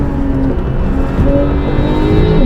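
A Porsche 911 Carrera GTS drives along a road, its engine a loud, steady, close drone with a shifting pitch that rises and falls slightly, heard on its own without voices.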